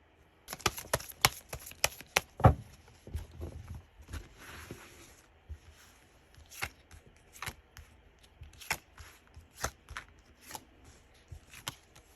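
Tarot cards are shuffled and drawn by hand, giving a run of soft, quiet riffles, snaps and taps scattered irregularly with small gaps, close and alone without talk.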